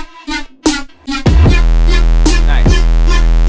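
A heavily compressed Serum synth patch from a remake of a track enters after a few short stabs and holds as a loud, dense, buzzing bass sustain with a steady low drone and bright upper harmonics.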